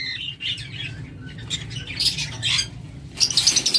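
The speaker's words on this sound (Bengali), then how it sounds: "এখানে রয়েছে ব্লু কোনোর চমৎকার জোড়া ব্লু কোনো" A breeding pair of blue conure parrots gives harsh, repeated squawks and chirps in short irregular bursts, close by, over a low background rumble.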